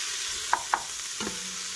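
Chopped red onions frying for brisket chili, with a soft continuous sizzle and a couple of faint utensil taps and stirring sounds, no talking.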